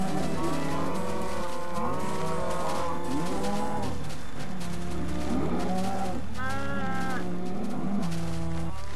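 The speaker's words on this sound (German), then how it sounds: "Eine Kuh. Das gibt's doch nicht." Minecraft cows moo repeatedly and loudly, overlapping one another, over a steady background hum with no talking.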